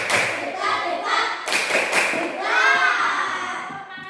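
Children in a classroom doing a clapping chant, rhythmic claps and thuds mixed with young voices chanting together, close and lively.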